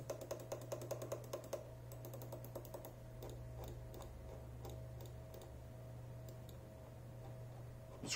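The buttons of a lightweight honeycomb-shell budget gaming mouse are clicked crisply. A quick regular run of clicks comes first, then sparser scattered clicks over a steady low electrical hum.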